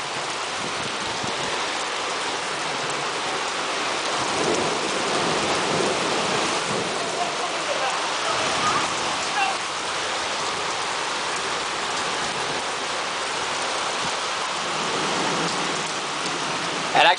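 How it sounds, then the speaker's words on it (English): Heavy typhoon rain pours down in Kyoto, a steady dense roar of downpour close by, with no talk over it. "I know the storm is from a typhoon. It's coming through right now."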